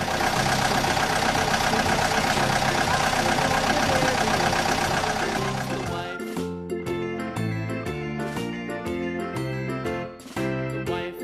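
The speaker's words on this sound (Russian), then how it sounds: "Экскаватор." An excavator engine in an educational cartoon about vehicles gives a dense, steady mechanical rumble for about six seconds before giving way to light music.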